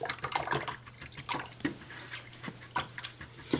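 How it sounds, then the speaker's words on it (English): Paintbrush being swished and rinsed of dark blue paint in a cup of water, producing close, continuous sloshing and small splashy taps with an irregular rhythm. "Then rinse all that dark blue out of my brush."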